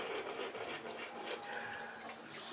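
Running water pours into a bath as a dog is washed, a close, steady splashing stream filling the space with no talk over it.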